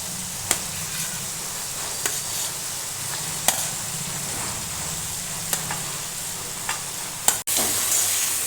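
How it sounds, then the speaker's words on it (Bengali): Potatoes and ridge gourd being stir-fried in a pan: a continuous sizzle with sharp spatula scrapes and taps every second or so, close and fairly loud, ending in a louder burst of frying. "এবার আলু ঝিঙে একসঙ্গে ভালো করে কষিয়ে নেব।"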